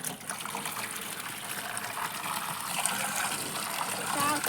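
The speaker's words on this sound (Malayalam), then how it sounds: "വെള്ളം ഒഴിച്ചുകൊണ്ടിരിക്കണ" Water is steadily poured into a tank during cleaning, giving a continuous broad splashing and trickling wash that holds an even level throughout the clip.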